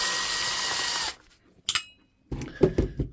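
Cordless DCH273 rotary hammer drill under teardown, screws being backed out: one loud steady whir of a power driver, then a pause with a brief sharp rattle, followed by a few uneven clicks and clattering bursts.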